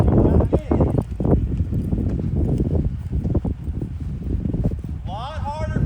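A ridden horse clip-clops steadily through an arena loop, hoofbeats close and rhythmic over a constant wind-like rush, while a rider talks throughout.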